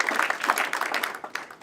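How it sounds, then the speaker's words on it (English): Audience applause at a coalition's opening-remarks event: a short burst of scattered clapping from a crowd, moderately loud, then thinning out. "Let's give them all a round of applause."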